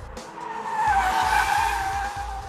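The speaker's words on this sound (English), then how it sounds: "that's the sound of wheels spinning around these corners" Tyres of a Tesla Model S 90D squeal through corners during a handling test, a loud, sustained high-pitched screech that swells and wavers, with low rumbling road noise pulsing underneath.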